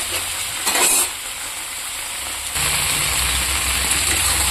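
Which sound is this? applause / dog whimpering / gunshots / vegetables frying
vegetables frying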